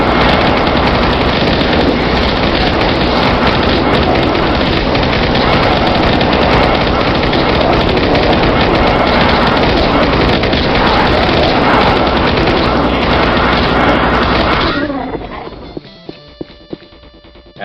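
Plasma gun in the Doom video game fires a dense, continuous rapid stream of shots for about fifteen seconds, loud and unbroken, then cuts off abruptly into quiet.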